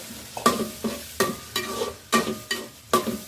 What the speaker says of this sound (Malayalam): ഇതിൻ്റെ പച്ചമണം മാത്രം നന്നായിട്ട് വഴറ്റി